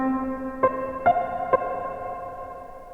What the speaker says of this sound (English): Let's find Old Ghost.